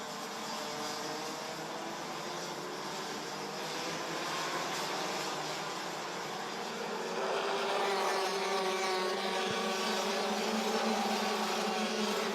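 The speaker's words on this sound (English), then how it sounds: "A flurry of DD2 and DD2 Masters drivers come across the line" DD2 and DD2 Masters racing karts at Campillos buzz across the line in a bunch, high two-stroke engine whines overlapping and growing louder as more karts arrive, with a dense, continuous drone.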